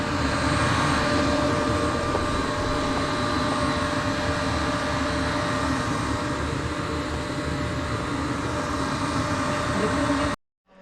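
A Kozak-2 aerator runs with a loud, steady mechanical drone and hum that holds unchanged for about ten seconds and then cuts off abruptly.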